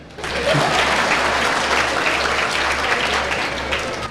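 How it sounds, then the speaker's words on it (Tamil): An audience at a televised Tamil debate show claps in a sustained, even burst of applause that starts quickly and holds steady, with no talk over it. "அதுக்கு ஒரு கைத்தட்டல் கொடுங்க"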